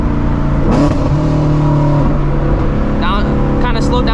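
Engine of a manual-transmission car revving in a rev-match throttle blip during a downshift into second gear at about 60 mph, with a steady loud drone and a rising rev surge partway through, heard from inside the cabin under a voice.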